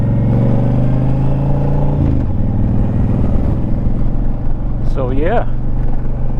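A Honda Fury motorcycle cruises along a road with a steady, loud engine drone and rushing wind, the pitch dipping briefly partway through; someone speaks briefly over the engine.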